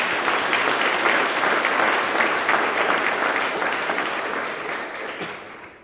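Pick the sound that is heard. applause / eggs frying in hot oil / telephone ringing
applause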